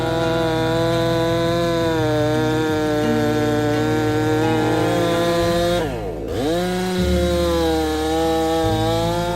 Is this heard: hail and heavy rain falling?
no